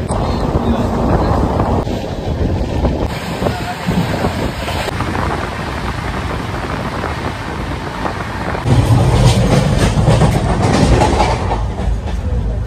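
Duronto Express train crossing the Kolaghat bridge at speed, a steady loud rumble of wheels and carriage noise with wind buffeting the microphone, rising louder toward the end.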